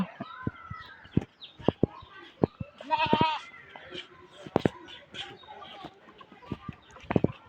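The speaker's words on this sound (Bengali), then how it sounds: "সামনে কিন্তু অনেকগুলো কিন্তু ছাকল রইছে" Goats bleat repeatedly nearby in a village, several wavering calls spread across the scene, with scattered clucks and background chatter from people.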